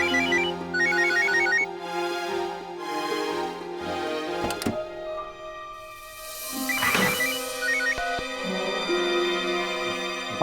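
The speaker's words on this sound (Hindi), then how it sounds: "बार बार क्यों फोन कर रहे हो यार मुझे?" An incoming call sets a phone ringtone going indoors: a bright, repeating melodic jingle plays in two clear bursts, separated by a brief lull, with a soft click in between.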